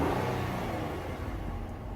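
A car with 29K miles is revved hard while its engine makes unhealthy noises: a loud, steady, rough drone that holds for the whole two seconds, close by, with no talking.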